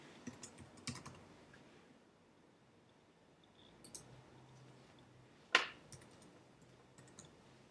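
Light, sparse key clicks from a computer keyboard as a name, ID and email are typed into a form. The taps come in short scattered bursts with one sharper click, heard close in a quiet room with no speech.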